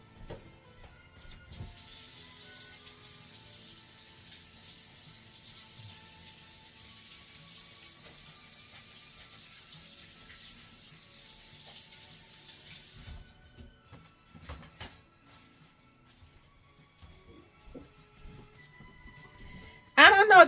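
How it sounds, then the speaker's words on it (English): A tap runs into a sink for about twelve seconds in a steady, hissing stream while someone washes black printer ink off their hands. Clatter and movement follow, and a voice comes in at the end. "Let me wash this off my hands."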